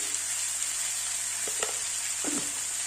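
Crab fries with turmeric and salt in a pan, giving a steady close sizzle, with a couple of brief scraping stirs breaking through the hiss.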